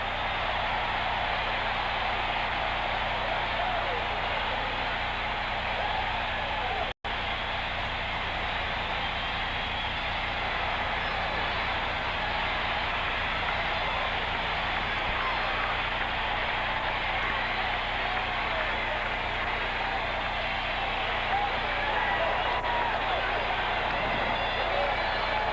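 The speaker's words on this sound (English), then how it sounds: "The crowd roaring as they should, because the Cornhuskers have won at home 31-24 over Bama." A stadium crowd in Lincoln roars without letup after Nebraska's 31-24 home win over Alabama in a 1977 college football game. The wall of cheering is loud and dense, with a single brief dropout.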